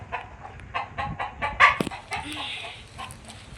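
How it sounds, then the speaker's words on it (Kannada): Chickens cluck in a poultry farm, a busy run of short, close calls rising and falling over a soft background murmur. "ಕೋಳಿ ಫಾರ್ಮ್ ಅವ್ರದ್ದು."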